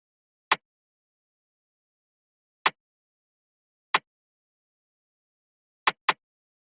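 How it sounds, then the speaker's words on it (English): Drill bounce snare from Ocean's Free Drill Pack hits five times alone in near silence, each a sharp, snappy crack at uneven spacing, with the last two landing close together. "Classic drill bounce snare."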